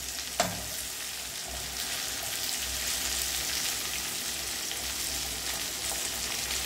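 Chicken pieces frying in hot oil with curry leaves scattered above and below, a steady dense crackling sizzle throughout, with one brief louder clack of a utensil near the start and no talking.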